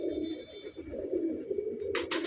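Punjabi Malwai pigeons coo softly in a steady, low throaty murmur, with a brief flutter or rustle near the end.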